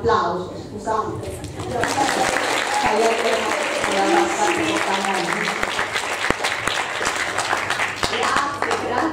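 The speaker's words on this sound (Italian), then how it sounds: "Veramente, voi meritate un applauso" Audience applause at a public lecture celebrating Italian language week, a full, sustained crowd clapping for about nine seconds, loud and close, rising after a brief spoken opening with voices carrying under it.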